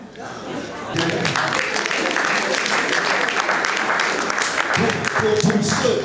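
Audience at a talk on happiness at work bursts into sustained applause, a dense, loud wash of clapping that starts abruptly after a quiet moment and continues steadily to the end.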